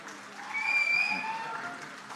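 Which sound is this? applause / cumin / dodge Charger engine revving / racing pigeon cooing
applause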